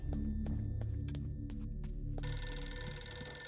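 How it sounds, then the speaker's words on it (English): A telephone rings inside the Eternal Darkness video game, a bright repeating ring that enters partway through over a low droning game ambience with scattered faint ticks, fairly close and steady. "phone's ringing."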